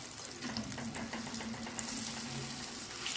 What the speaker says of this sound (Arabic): هنا هعمل البصل هحمره